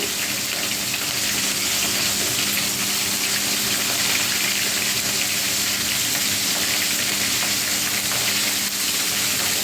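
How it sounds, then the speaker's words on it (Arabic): Floured calamari pieces frying in hot oil give a steady, dense sizzle and crackle, loud and continuous throughout with no voices over it. "لا الزيت بتاعنا سخن، نبدا بقى ايه نفرفطها كده من الدقيق عشان هي بتمسك في بعضيها، ونحطها في الزيت بتاعي"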